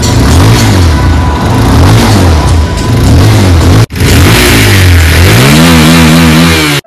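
A Bajaj Pulsar 220F motorcycle engine revs loudly and close, climbing and falling through several throttle blips, cutting out briefly, then surging again in a rising, wavering rev with no talking.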